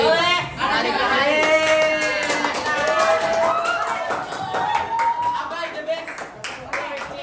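A classroom group is applauded by classmates, with moderately loud scattered clapping mixed with chatter and tonal voices or music, trailing off toward the end.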